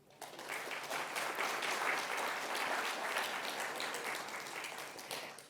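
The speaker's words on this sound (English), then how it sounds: "So can we give a round of applause for the day that is coming our way?" A forum audience at a small business capital access event breaks into a full round of applause, steady and sustained for several seconds before tapering off at the end.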